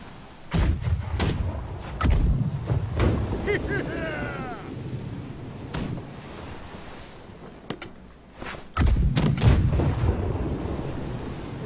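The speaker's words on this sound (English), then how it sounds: "They're using that swivel gun, make sure to crouch." Swivel gun shots in the pirate-ship game Blackwake, several sharp loud bangs at irregular intervals over ocean waves and wind, with people talking throughout.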